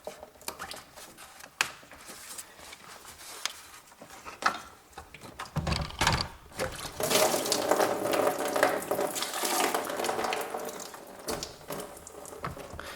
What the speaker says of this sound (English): And now this coolant comes out.